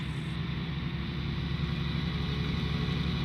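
Fendt tractor engine in Farming Simulator 19, a steady low idling drone held at even volume, with no talk over it.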